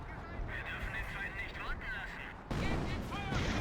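Artillery fire in the Company of Heroes real-time strategy game: a steady broadband rumble of shelling that jumps to a louder, denser barrage about two-thirds through, with a voice running over it.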